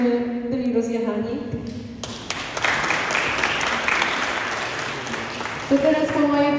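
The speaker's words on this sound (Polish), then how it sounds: "więc to jest wielkie brawa" An audience at a Christmas carol concert breaks into a burst of clapping that lasts several seconds. Talk can be heard before and after the applause.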